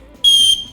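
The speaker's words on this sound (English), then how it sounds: "we've got a sternum strap with an emergency whistle on it" Someone gives an emergency whistle clipped to a backpack sternum strap one short blast, a loud, piercing, steady tone lasting about a third of a second, with quiet before and after.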